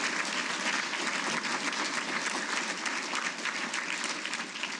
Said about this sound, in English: Let's give Ms. Brown a round of applause.